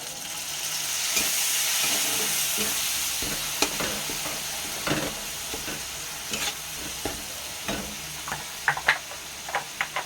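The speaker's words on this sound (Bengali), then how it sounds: "একটু জল দেওয়া হচ্ছে।" Katla fish kalia sizzling and frying in a pan as water goes in, a steady hiss with scattered crackles, pops and stirring clinks that grow sharper toward the end, close by with no talk.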